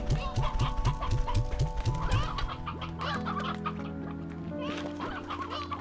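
Chickens clucking in the video game Slime Rancher 2, a rapid rhythmic run of clucks up close that gives way to a softer, scattered flock chatter.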